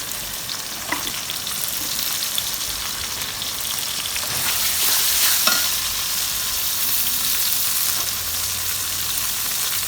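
Onion frying in oil with garlic, ginger and cumin paste, a steady close sizzle broken by scraping stirs and small clicks throughout.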